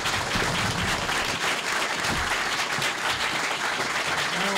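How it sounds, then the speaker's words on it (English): Steady applause fills an audience at an Illinois 18th Congressional District Republican primary debate, greeting the three candidates; dense, even clapping runs unbroken from start to finish. "If you would join me in a round of applause for all of them."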